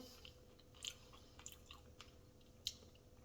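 Soft, close chewing of tender Raising Cane's chicken fingers, a few faint moist crunches and squishy bites spread over a few seconds with no talking.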